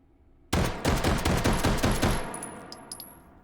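A Luger LP08 pistol fitted with a shoulder stock firing in the H3VR shooting game, a rapid string of sharp, loud shots in quick succession, followed by a faint metallic ring as the echoes die away.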